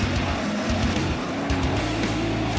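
Dirt track race cars run side by side and three wide down a back straightaway, engines roaring loud and steady with a pitch swell as they pass, with no talk.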